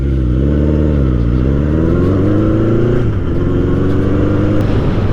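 A Norton motorcycle engine drones steadily and loudly at close range throughout the ride, its pitch sliding up and dipping as the throttle changes, with no talking over it.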